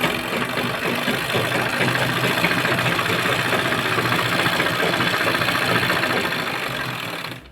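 A zigzag sewing machine stitching a saree fall whirs continuously up close, with a rapid mechanical chatter of the needle and shuttle that runs steadily before winding down at the end.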